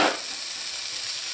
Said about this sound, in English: So you want to saute the onions just until they start to turn translucent.